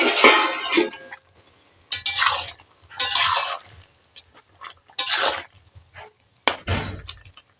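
A pot lid lifted and potatoes stirred in a boiling pot in a home kitchen, heard as several separate bursts of metallic clanks and scraping at close range with quiet gaps between.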